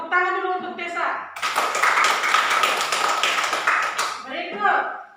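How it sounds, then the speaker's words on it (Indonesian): A classroom of children claps together in a dense burst lasting a few seconds, with children's and a teacher's voices talking just before and after it. "Tepuk tangan dulu untuk Tessa."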